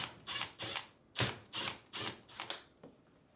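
A socket wrench with a 5/16 socket removes screws from a dishwasher upper dish rack track and mount assembly, making six or seven short ratcheting bursts at a steady rhythm, close and fairly quiet, with no talking.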